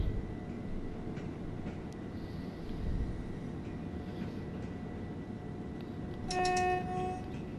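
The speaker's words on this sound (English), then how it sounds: "Here's another train." A train in the Train Sim game on the Brighton to Eastbourne route rumbles past with steady low rail noise throughout, a louder swell near the start and a brief rise with a high tonal squeal or horn-like tone toward the end.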